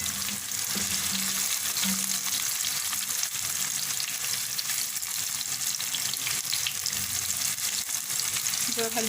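Small koftas fry in hot oil in a pan while being gently stirred, giving a steady, close, continuous sizzle with faint scraping and clinks from the stirring.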